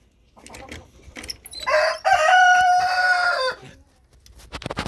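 A rooster crows once loudly and close by, a long drawn-out call, with scattered clucks and faint farmyard noise before and after.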